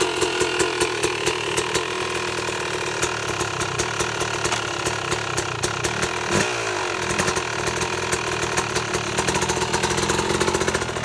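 A Yamaha YZ250 two-stroke dirt bike fitted with a Rekluse auto clutch revs with rapid ticking engine pulses, then pulls away smoothly as the engine note climbs, loud and close throughout.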